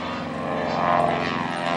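A Beechcraft 18 twin radial-engine airplane flying an aerobatic display roars steadily overhead, a loud, droning propeller hum with a slight swell in the middle of the pass.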